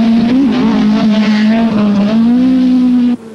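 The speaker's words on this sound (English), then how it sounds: "Rising Finnish hero Juha Kankkunen is driving spectacularly in his Toyota Celica Turbo" A Toyota Celica Turbo rally car driven hard on a special stage of the 1984 Thousand Lakes Rally in Finland, its engine roaring loud and close with a steady high pitch that wavers slightly, cutting off abruptly near the end.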